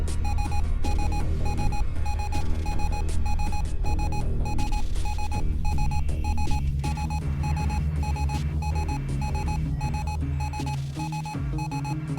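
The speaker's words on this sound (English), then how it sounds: "I don't need a proximity alarm as I'm docking." A spaceship proximity alarm sounds while docking in the video game Ostranauts: a loud repeating electronic beep in a fast, regular pulse over a deep throbbing hum, continuous throughout with no talk.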